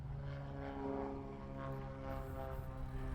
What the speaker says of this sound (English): Oh, there's a plane taking off.